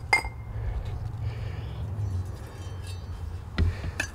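An old iridescent glass tumbler being dug up, with a few sharp glassy clinks and scrapes over a low background rumble, the clearest near the end.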